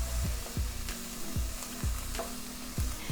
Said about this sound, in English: just cook and stir that for another minute or 2